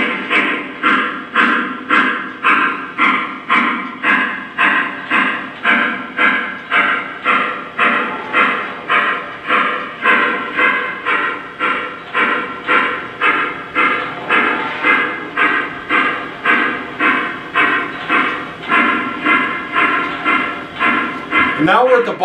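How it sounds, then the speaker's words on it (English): A model Y-3 Legacy 2-8-8-2 steam locomotive plays a drifting chuff through its speaker, a loud, steady, rhythmic chuffing that repeats evenly for over twenty seconds with no voices. "press the effects down button so you can hear the drifting chuff come through the speaker"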